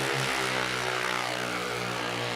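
Very loud drag-racing grudge cars roar past at a Goldenstates drag meet, a dense, sustained engine blast with heavy low harmonics filling the whole stretch, with no talk over it.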